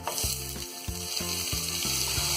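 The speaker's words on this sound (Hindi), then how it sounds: "और प्याज को हम गोल्डन ब्राउन फ्राई कर लेंगे।" Steady sizzle of onions frying in a pan with low, rhythmic scraping and stirring pulses throughout, close and fairly loud, no talking.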